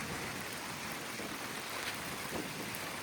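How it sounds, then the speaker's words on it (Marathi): Steady rain pouring down, a dense hiss of drops with a gusty, windy edge, continuous and fairly close throughout. "पाऊस आला चला पाऊस आलाय बघा बघा मस्त"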